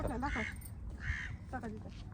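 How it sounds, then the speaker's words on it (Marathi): Several harsh crow caws ring out in short bursts, fairly close and loud, repeating a few times over ambient background noise. "इथं लयच कावळा वरडायला लागला"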